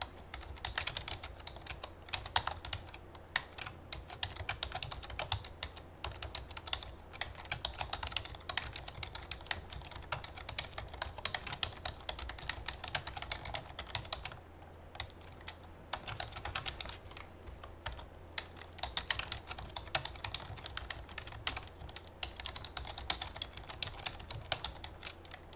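Steady, close computer keyboard typing while entering C++ code, with dense rapid key clicks in irregular bursts and brief pauses, quiet and continuous throughout with no voices.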